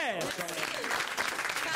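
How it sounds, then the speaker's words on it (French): A studio audience applauds a television host's entrance on a comedy show, quick scattered clapping building at moderate level, with a sliding musical or voice sound at the very start. "je vous demande d'applaudir l'entrée d'Elsa Fayer"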